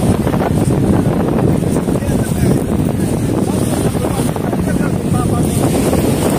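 Strong wind blasts across the microphone on the Manila Bay waterfront, a loud, continuous, rumbling roar that buffets without pause and buries any other sound.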